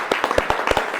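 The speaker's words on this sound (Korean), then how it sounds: "박수 한번 부탁드리겠습니다." A short burst of clapping hands, a scattered round of applause from a small group at a business forum.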